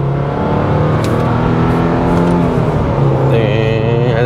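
A 2022 Subaru WRX GT engine revs hard while driving, a loud steady drone with rising and falling pitch, sustained throughout and heard from inside the car over road noise, with a voice talking over it.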